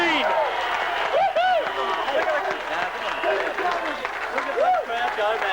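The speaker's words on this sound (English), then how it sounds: "Look at the crowd go, man." A football crowd at an under-18 grand final between Belmont and Corio roars and applauds a goal, a dense, continuous cheer with whistles and shouts throughout.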